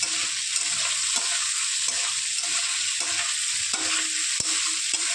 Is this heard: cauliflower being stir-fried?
yes